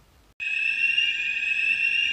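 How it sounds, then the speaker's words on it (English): A fire alarm set off by an old toaster during toast-making bursts on abruptly after a moment of quiet, then holds a loud, continuous, piercing electronic tone without pause. "It was me that triggered the fire alarm."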